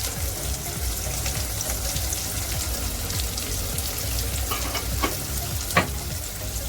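Onions sautéing in a pan for a South Indian ridge gourd and potato dish, a steady close sizzle and crackle with occasional stirring scrapes and no talk.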